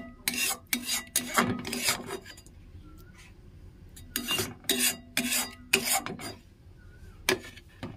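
A spoon scrapes poppy seed paste out of a wok in a string of short rasping strokes, close and fairly quiet, with brief pauses between bursts.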